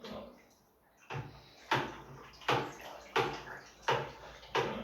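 Yeast is stirred into a homemade lemon, honey and nettle cider, giving about six rhythmic swishing, sloshing strokes of liquid that are fairly faint, with no talking.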